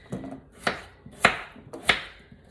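A knife chops through red potatoes on a cutting board, cutting them into wedges with four distinct crisp thuds at a steady pace, close and fairly quiet.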